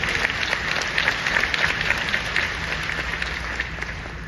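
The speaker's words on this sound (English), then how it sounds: "Give her a big round of applause." A crowd at a South Dallas business awards event breaks into steady applause, dense clapping holding at an even level throughout.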